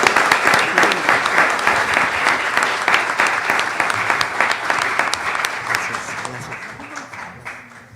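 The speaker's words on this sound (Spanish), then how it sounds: "para quienes pido un aplauso" An audience at a genealogy conference gives sustained, dense applause that holds strong for several seconds and then slowly thins out toward the close.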